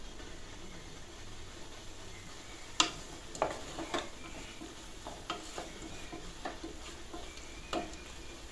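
Coriander and mint leaves fry in a pan with a faint, steady sizzle, as a spoon stirs and scrapes in scattered light clicks and taps.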